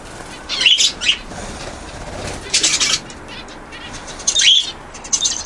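Pet budgies and finches in a snowy outdoor aviary, with scattered bursts of wing flapping and short high chirps coming from a middle distance against a steady outdoor hiss.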